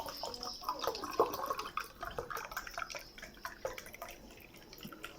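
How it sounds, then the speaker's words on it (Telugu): Cold water is poured for a summer drink, a faint trickling and dripping splash that runs unevenly for several seconds, with no talk over it. "చల్లటి నీళ్లు తీసుకొస్తున్నాను. ఇలా పోస్తున్నానండి."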